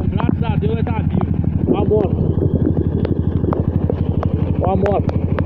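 A motorcycle engine chugs in a steady, rapid pulse while riding through floodwater on a road in São João da Boa Vista, heard close amid wind buffeting and occasional voices.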